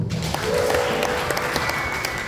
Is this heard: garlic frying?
no